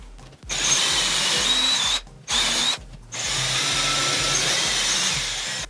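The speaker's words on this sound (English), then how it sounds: "Grab my drill and go right into the center of the circle." A power drill whines in several bursts, stopping briefly twice before running steadily again, close and loud, while installing an X-mount for a TRX suspension trainer at home.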